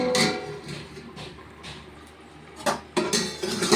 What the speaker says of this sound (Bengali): এবার ধিম আঁচেতে ঝোলটা মাখা মাখা করে নিচ্ছি। ঢাকাটা দিয়ে দিচ্ছি।